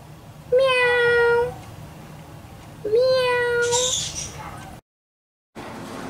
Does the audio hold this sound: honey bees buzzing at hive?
no